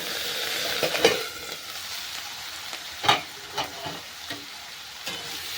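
A spoon stirs fish curry with raw tomato in a pan, sounding as soft scraping and a few sharp clinks over a low, steady sizzle, close and unaccompanied by speech.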